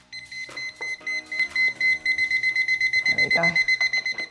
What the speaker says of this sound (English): it will double beep when we put the milk in